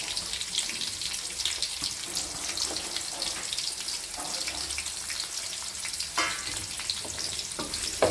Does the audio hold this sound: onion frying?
yes